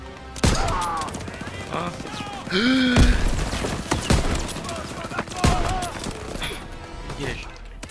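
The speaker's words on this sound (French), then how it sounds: "Faut pas les laisser reprendre ce canon. Ils doivent pas passer. Ils arrivent. Ouvrez le feu." Rapid World War II rifle and machine-gun fire crackles through a Call of Duty WW2 battle, loud bursts and single shots over about eight seconds, mixed with game effects and a brief voice.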